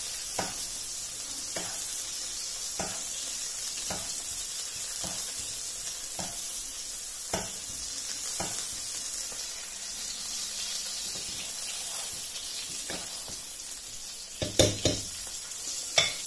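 A marinated pork chop sizzles steadily in a hot pan with a constant bright hiss, while periodic spoon scrapes and splashes of basting fat tap in at a regular rhythm, ending with a few sharper clatters.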